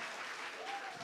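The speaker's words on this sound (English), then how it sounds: "Let's give her a round of applause" Brief burst of audience applause at a small business pitching workshop in Umlazi, a steady wash of clapping hands lasting about a second with no break.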